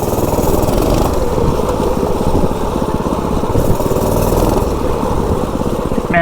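A small engine on a two-wheel drive mini bike chugs steadily and loudly up a hill at light throttle, its rapid putter holding an even pace, with no talking.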